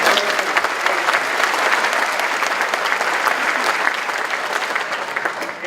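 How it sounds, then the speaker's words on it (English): Large conference audience at an opening ceremony in Berlin giving a sustained round of applause, dense even clapping that holds steady and fades slightly toward the end. "How about another round of applause for folks from Europe?"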